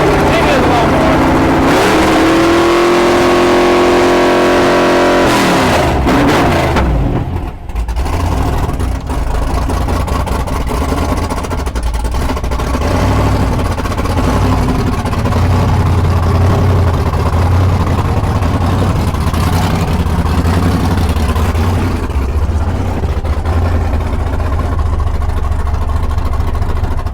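A 700-horsepower 4x4 Cadillac engine runs loud and close, revving hard at first, then dropping to a rough, rumbling idle that holds steady throughout, with people talking over it.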